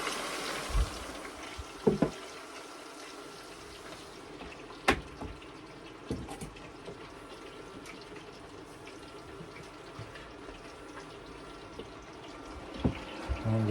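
Peas and meat simmering in pots on an electric cooker run from a portable power station, a soft continuous bubbling and gurgling with occasional sharper pops and clicks, fairly close and steady, no talking.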